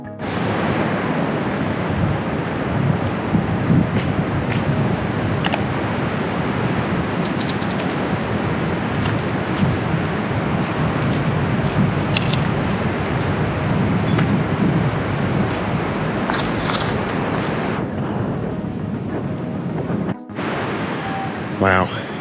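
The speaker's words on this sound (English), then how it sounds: "Wow, it's windy" Cold wind blowing at the Thredbo mountain ski resort, a steady, loud roar of gusts buffeting the microphone for over twenty seconds, with a brief dip near the end.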